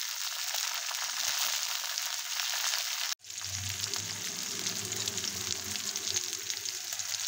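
Upma ingredients fry in a pan, a steady loud sizzle that cuts out briefly, then resumes with added crackle and stirring, no talk.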